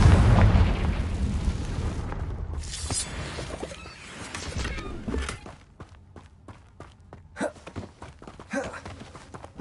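A Confringo blasting spell bursts in Hogwarts Legacy with a loud, rumbling explosion that slowly decays, followed by scattered quieter thumps, crackles and footsteps.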